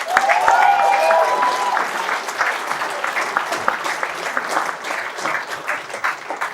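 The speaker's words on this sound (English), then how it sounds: "I'd like you to give Cormac a big round of applause" A hotel function room at a county sports awards night fills with warm, sustained applause from the audience, starting loud and gradually thinning out.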